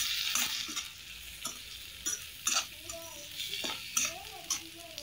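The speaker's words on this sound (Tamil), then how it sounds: "இப்போ வந்து தக்காளி ஆட் பண்ணிரலாம் நான் ஒரு தக்காளி சின்ன சின்னதா கட் பண்ணி வச்சிருக்கேன் இதையும் நல்லா வதக்கிடுங்க" Chopped tomato sautéing in a pan for kothu idli, a steady hiss with repeated spatula scrapes and taps against the pan, close and fairly quiet, with no talking.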